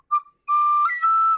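Short tin whistle phrase, a quick note and then a held, slightly squeaky tone that wavers as it shifts pitch, close and loud with no speech.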